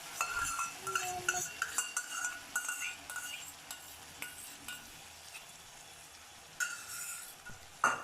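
Whisked yogurt stirred into a frying spice paste for Bengali doi potol, a steady scraping and stirring with a soft sizzle underneath and a few sharper utensil knocks, close and fairly quiet, with no talk.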